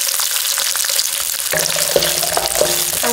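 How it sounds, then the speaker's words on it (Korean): Garlic fries in oil in a pan over low heat, giving a continuous close sizzle; stirring scrapes and clicks join in after the first second and a half. "지금 기름에 튀겨지는 형태잖아요"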